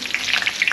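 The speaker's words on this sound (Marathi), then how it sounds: "अशी तळून बघायची" Diwali faral snacks frying in hot oil, a loud, close crackle of bursting bubbles and spatter over a brief moment.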